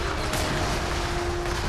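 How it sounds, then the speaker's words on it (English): Siege cannons firing in the strategy game Rise of Nations, a continuous rumbling barrage of booms with a steady tone running underneath, dense and loud throughout. "So our siege cannons are just going to go pound"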